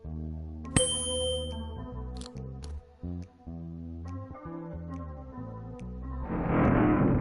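A struck tuning fork in a puzzle video game rings out as a bright, sustained tone over layered musical game audio, followed by echoing chimes and ending with a rising noisy swell.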